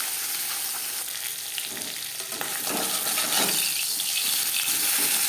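Marinated bata fish fries in hot refined oil in a pan, giving a steady, loud, close sizzle with crackling that thickens toward the end.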